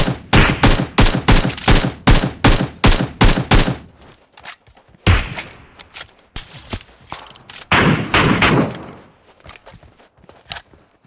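Loud gunfire from the mobile battle-royale game PUBG Mobile on the Miramar map comes as rapid automatic bursts. A dense volley opens the clip, followed by scattered single shots and a final burst.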